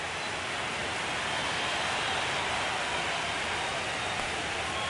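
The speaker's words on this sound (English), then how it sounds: "This rain is not letting up." Steady, dense rain pours over a baseball stadium during an American League Championship Series game between the Seattle Mariners and New York, a loud, even broadband wash with no breaks and no voices.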